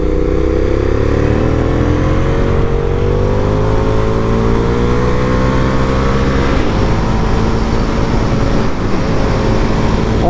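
A 2006 KTM SuperDuke 990 motorcycle being ridden, its engine a loud, steady drone whose pitch climbs gradually, then shifts and settles after a change partway through.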